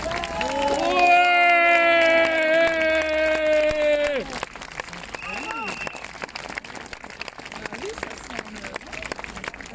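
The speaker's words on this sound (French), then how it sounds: "On peut l'applaudir très très fort" A crowd at a French march gathering applauds, the first few seconds carrying a sustained tonal singing or chanting layer over the clapping, then dense applause continues with scattered cheers and a few voices.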